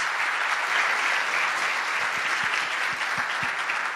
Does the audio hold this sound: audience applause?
yes